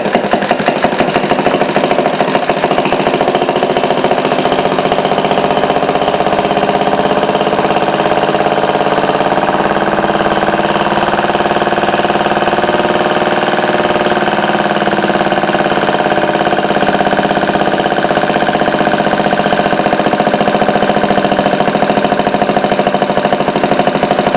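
A homemade overhead valve Briggs engine runs steadily and loudly up close for the whole stretch, a continuous throbbing idle with faint knocking and no talk over it.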